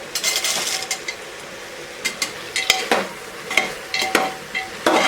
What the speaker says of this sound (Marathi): थोडा गरम मसाला मिक्स कर शेंगदाणे घालूया